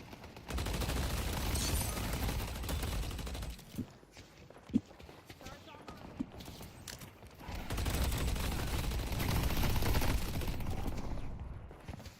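Gunfire in the Deadlock video game, dense bursts of shots with sharp isolated cracks in a lull midway, loud and close, then a renewed heavy volley amid game noise and occasional speech.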